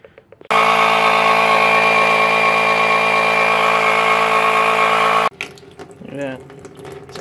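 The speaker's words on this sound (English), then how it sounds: "Actually forcing the water that was still in the pipes through the open faucet." Water and air forced out of a well system's pipes through an open faucet, a loud steady hissing gush lasting about five seconds that cuts off abruptly, followed by sputtering and a voice.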